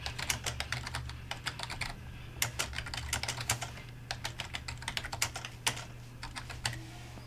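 Rapid keystrokes on a computer keyboard as a subject line is entered into a form, irregular clicks in quick bursts with short pauses, close and clear over a steady low hum, with no one speaking.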